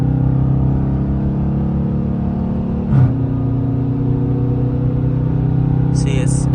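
A car engine hums steadily at moderate pitch in third gear, with a brief dip and rise midway as a paddle-shifted gear changes, then settles at a lower drone.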